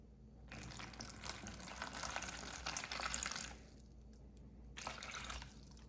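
Water pours steadily into a Haidilao tomato beef self-heating hot pot up to the fill line, a close splashing stream that stops briefly and then resumes for a short second pour.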